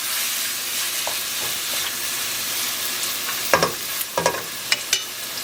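Curry ackee and saltfish being stirred in a pot, a steady frying sizzle with a few sharp scrapes and knocks of the spoon toward the end, close and alone without talk.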